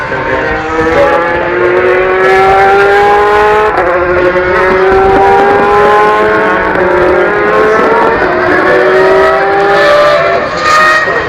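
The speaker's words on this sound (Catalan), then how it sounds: "Rappresentiamo il passaggio delle vetture sulla rettilineo con anche le benedette GT Ferrari." Ferrari GT race cars, including 430s, roar past on the straight at the Cheste circuit in Valencia, several loud engines with rising pitch overlapping continuously and close by, no talk.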